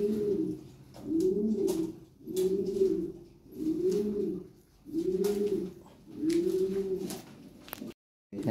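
Pigeons at a pigeon sale coo nearby in six slow, evenly spaced throaty phrases, loud and clear with no talking.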